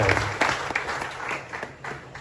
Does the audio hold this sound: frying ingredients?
no